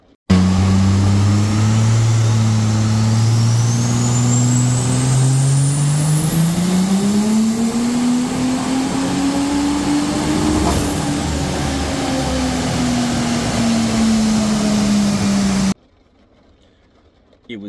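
A car engine on a dyno holds a loud, steady drone that climbs gradually in pitch, peaks, then eases back down before cutting off abruptly into near silence.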